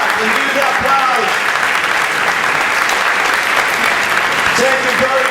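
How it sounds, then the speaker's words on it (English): Steady, dense applause from an audience at a lecture event, sustained clapping for several seconds, loud and close, with faint voices mixed in. "Stand up and give the applause."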